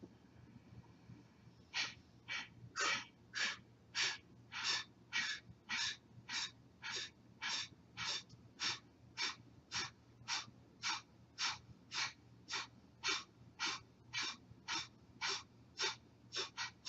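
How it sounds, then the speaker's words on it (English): Deep breathing during prana yoga practice: a long series of evenly spaced, forceful nasal breaths, about twenty in steady rhythm, close and clear over a faint background hum. "Inhale, sit up nice and tall. Exhale to empty it all out."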